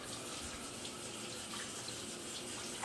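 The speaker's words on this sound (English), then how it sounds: "let me wash my hands before we handle the wet." A kitchen tap runs steadily while hands are washed underneath, a continuous splashing hiss with slight fluctuations, close and fairly quiet, with no talking.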